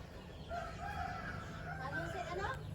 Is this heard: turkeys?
yes